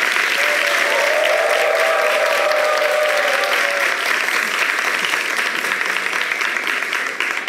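A studio audience at a television talk show applauds a guest sociologist, with dense, sustained clapping close by. A voice is briefly heard over the applause before it slowly tapers off.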